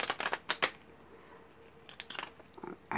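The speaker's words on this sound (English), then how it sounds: "Dribble the cards into the hat." Playing cards are dribbled from the hand into a hat, quick papery flicks in a fast cluster, then a pause, then a few more scattered flicks near the end.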